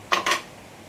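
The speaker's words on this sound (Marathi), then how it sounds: "आता मी रोल छोटे छोटे कट करून घेते." Two quick knife strokes slice through rolled colocasia leaf rolls, crisp close chops landing on a board, then quiet.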